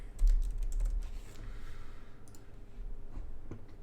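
Quick, close clicking of fingers typing on a computer keyboard, a dense burst of keystrokes at first that thins to a few scattered taps, with no speech.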